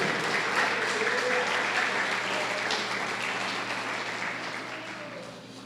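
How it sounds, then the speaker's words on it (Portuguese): A church congregation applauds during a worship service, a steady wash of many hands clapping together, sustained throughout and slowly easing off toward the end. "Aplauda o nome do Senhor."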